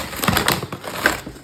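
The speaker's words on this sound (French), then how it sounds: "on va ouvrir le colis" Crinkly crushing and tearing of packaging as a parcel is opened, a run of irregular rustling crackles and snaps close to the microphone, with no talk over it.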